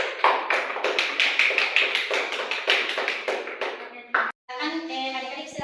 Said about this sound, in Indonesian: ayo kita berikan aplaus kepada teman-teman kita